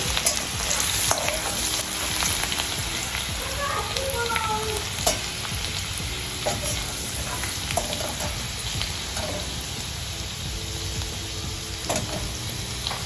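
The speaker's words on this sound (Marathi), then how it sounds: "मिरच्या आणि लसूण टाकतोय आपण आता छान परतून घेऊया" Chillies and garlic frying in hot oil for Nashik-style milk shev bhaji, a loud, continuous crackling sizzle punctuated by repeated spoon scrapes and stirring, no talking.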